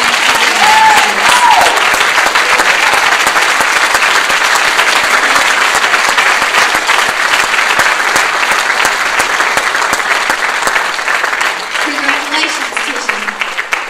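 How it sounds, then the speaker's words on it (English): Sustained, loud applause from a crowd at a graduation ceremony for Tisha Hughes at Z.A.C. House in Goshen, continuous clapping that fades slightly toward the end while a voice speaks briefly over it. "give her another great round of applause"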